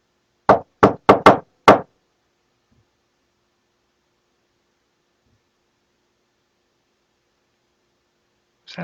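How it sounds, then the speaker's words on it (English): A quick series of five sharp knocks plays back from an investigation recording, close and distinct, followed by long silence and a faint thud at the very end. "You're going to hear a low knock."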